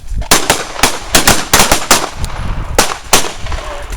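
Gunshots ring out at a carjacking survival workshop, a loud, close, rapid string of about a dozen sharp reports in quick uneven bursts with short gaps.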